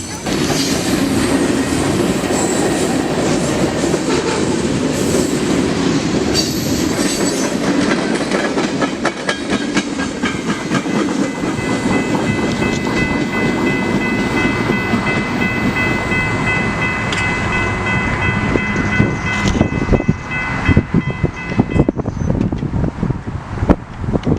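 Union Pacific freight train rolling past at close range, a steady loud roar of wheels with clickety-clack over rail joints, metallic squeal and wind buffeting throughout, continuous for the whole stretch.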